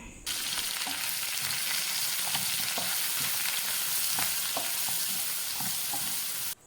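Crushed ginger, garlic, chopped green chillies and curry leaves fry in oil for a prawn pickle, a continuous close sizzle with scattered spoon clicks and stirring, no voices.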